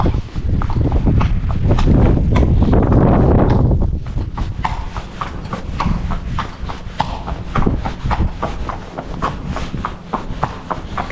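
Hooves of a ridden horse on a gallop route toward Knott End, loud and close at first as a dense rush, then a steady run of distinct clip-clop beats continuing to the end.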